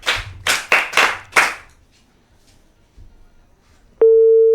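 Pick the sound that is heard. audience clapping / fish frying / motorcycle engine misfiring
audience clapping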